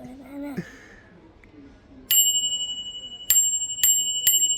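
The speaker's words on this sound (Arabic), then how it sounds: "رني الجرس، رني الجرس." Bright metallic rings from a bell on a child's ride-on toy in a toy store, one ring followed by three more spaced strikes that each ring out, loud and close after some talk at the start.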